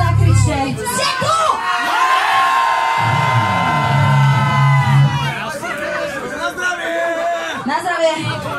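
Concert audience at a live rock show in Banská Bystrica shouting, whooping and cheering loudly in a sustained roar, with bursts of yells rising and falling across the crowd.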